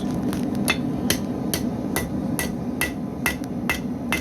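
A heavy blacksmithing hammer strikes metal in a steady series of about ten sharp ringing blows, evenly spaced and close, over a low background hum.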